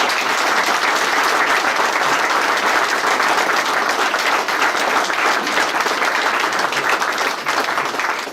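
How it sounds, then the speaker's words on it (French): Loud, continuous crowd applause for a gold medal recipient at an award ceremony, a thick, even wash of clapping sustained from start to finish with no pauses. "on peut l'applaudir d'ores et déjà"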